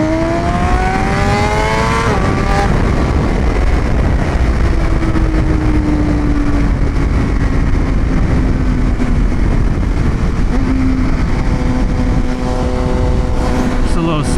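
A 1000cc sport motorcycle engine roars under a rider on the road, loud and close, with rising and falling revs through gear changes over heavy wind rush.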